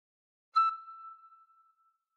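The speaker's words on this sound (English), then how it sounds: "Cover holes 1 to 4 with fingers 1 to 4 and blow a bit harder once." A single brief tin whistle note, played with holes 1 to 4 covered and blown a bit harder, gives a sharp breathy onset and then a thin, pure tone that fades quickly into silence.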